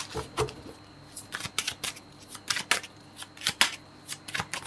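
Tarot cards shuffled by hand, a series of crisp riffling bursts and soft flicks in irregular rhythm, close and moderately loud, with no talk over it.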